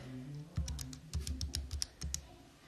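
Quick bursts of key presses on a calculator or computer keyboard while computing a discriminant, clustered clicks close up, with a short pause between runs.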